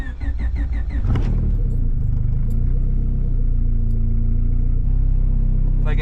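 A turbocharged Honda Civic engine cranks and catches about a second in, then settles into a steady, loud, close idle rumble while warming up, with no voices.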